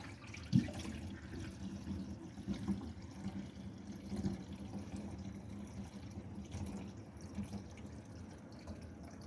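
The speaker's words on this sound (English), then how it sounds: "Sounds like a very healthy drain." Water drains from a kitchen sink, a faint, steady gurgling trickle with occasional drips, heard close and alone.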